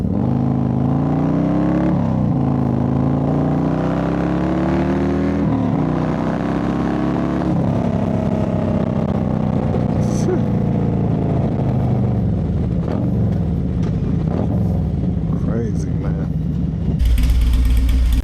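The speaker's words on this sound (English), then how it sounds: "Listen to that bike, man. That D&D 2-in-1." A motorcycle with a stage 2 kit and D&D 2-in-1 exhaust idles and revs up and down nearby, its deep rumbling note rising and falling repeatedly, with a sharper blip near the end.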